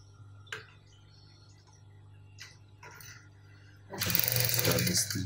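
A sewing machine stitches a jacket lapel. Faint ticks and small handling noises come first, then a loud, close burst of machine running for the last second or so.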